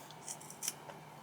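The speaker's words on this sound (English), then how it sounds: "And then I'm going to cut off the extra portion here." Scissors snipping off excess fabric from a sewn zippered pouch, a few quiet, close crisp cuts in an otherwise still room.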